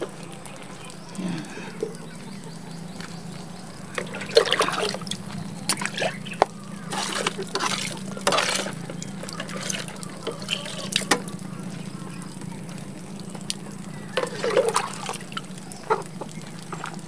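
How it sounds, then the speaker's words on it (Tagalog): Water poured onto plants during farm chores, intermittent splashing bursts over a steady low background hum, with a faint chicken-like call early on. "So didiligan ko pa rin tong isa."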